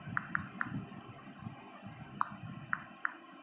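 Keyboard keys pressed while a name is typed into an online Google Form: a handful of sharp, irregular clicks, close but quiet, over a low background hum.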